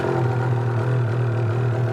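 A 2022 Lynx Rave snowmobile with an aftermarket exhaust idles right after starting, a deep, steady, loud engine burble with a low throbbing pulse, close by.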